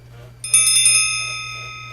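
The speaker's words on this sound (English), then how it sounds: "a Buddhist style bell, which I thought was nice" A Buddhist-style bell struck once and left to ring, a bright metallic onset with sustained overtones that decay slowly over a steady low hum, close and fairly loud.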